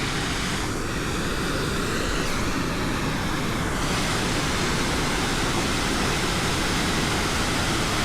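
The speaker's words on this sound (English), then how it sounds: "Here is the waterfall." Waterfall on a mountain trail, a steady broadband roar of falling water that holds constant and fairly loud throughout, with no voices over it.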